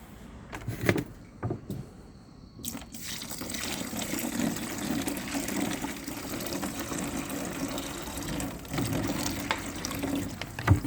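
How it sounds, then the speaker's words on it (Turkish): Water is poured into a sink drain that has been clogged on purpose, gushing and gurgling for several seconds after a few brief clatters, fairly close and moderately loud, with no speech. "Biraz da su koyalım. İyice çöksün altı."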